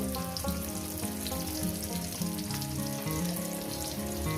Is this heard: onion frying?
yes